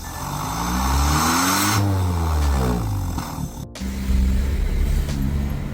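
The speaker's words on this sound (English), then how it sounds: "You sound like you have a diesel. I got a TDI!" Volkswagen TDI diesel car engine revving up and down in long sweeping roars, loud and close, with a brief cut before the steady drone resumes.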